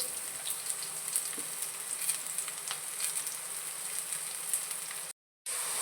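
Carrots and beans fry in a pan, giving a steady, faint, even hiss with an occasional small tick, uninterrupted by speech until it cuts out briefly near the end.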